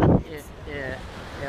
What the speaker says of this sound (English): Pretty windy though. It's pretty windy.